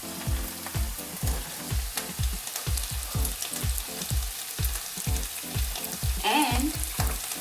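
Roughly diced potatoes fry for pav bhaji, a steady loud sizzle with rhythmic scraping stirs against the pan running throughout, and a brief higher squeak near the end.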